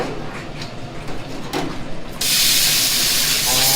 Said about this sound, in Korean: 아, 바로 물총 살수 있게 만든 거예요?